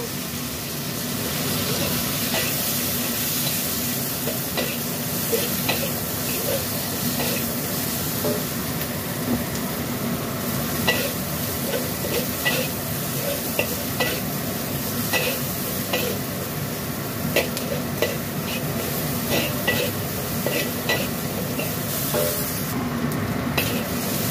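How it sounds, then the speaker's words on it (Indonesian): Shallots, garlic and ginger sautéing in butter or margarine, a steady close sizzle with frequent spatula stirring and scraping throughout. "Lalu kita masukkan bawang merah, bawang putih, dan jahe. Kita tumis bersama dengan mentega atau margarin."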